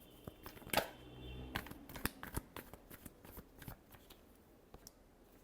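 Tarot cards shuffled by hand in a quiet room, giving a run of soft riffling bursts and sharp card clicks, one louder flurry near the start, with no talk.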